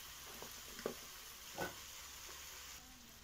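Mint, potato and drumstick sautéing in a pan for mutton curry: a faint, steady sizzle with a few soft stirring clicks and scrapes, no talking.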